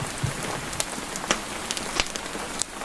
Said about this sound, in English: The rain has eased to a gentle drizzle now